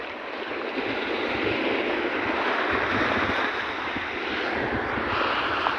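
Continuous heavy surf rumbling and washing close by on a rocky beach in San Isidro, Leyte, mixed with gusty wind noise on the mic; no one speaks.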